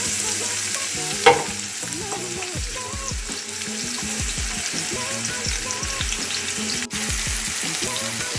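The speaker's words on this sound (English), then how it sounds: "we are just sauteing the tadka" A tadka mixture sizzles in hot oil in a pan, steady frying crackle under repeated stirring scrapes, with one sharp clink early on.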